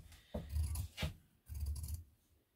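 Scissors trimming back the canvas seam allowance on a frock coat front: three close, quiet crunching cuts through heavy fabric, each separated by short pauses.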